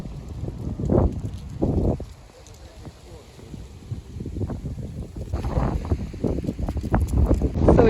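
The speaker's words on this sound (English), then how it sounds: "It's so crazy windy" Strong wind buffets the microphone in loud, rumbling gusts by the Danube in Romania, with a voice talking over parts of it.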